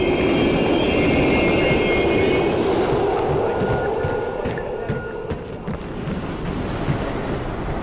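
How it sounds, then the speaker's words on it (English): A train rolling through an abandoned station in Call of Duty: Black Ops Cold War, a loud broad rushing roar that slowly eases off, with faint metallic squeals on top. "We can use a train to slip past."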